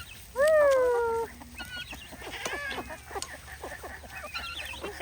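Backyard homestead hens cluck and murmur close by, opening with a loud, drawn-out squawk from one bird, followed by a string of short, scattered clucks and calls.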